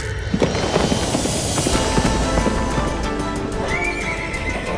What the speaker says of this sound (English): The galloping of the horse grew louder and faster.